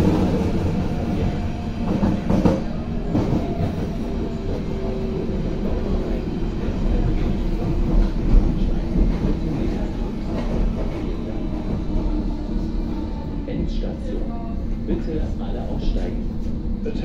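Berlin S-Bahn class 480 electric train running on the S3 over the Stadtbahn, a steady loud rolling rumble with faint rail clatter throughout, voices faintly audible beneath.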